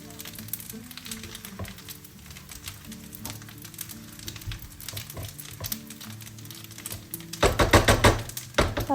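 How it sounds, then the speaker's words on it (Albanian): Rice fries in a pan for pilaf with soft continuous crackling and intermittent scraping of a spoon stirring, growing louder and busier near the end. "Orizin do vazhdojmë ta skuqim vazhdimisht duke e përzier her pas here."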